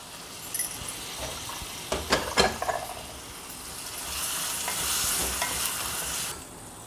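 Tomato, garlic and green chilli fry in a pan with a steady sizzle, while a utensil stirs and scrapes in several short clinking bursts early on, then the frying swells louder before easing off.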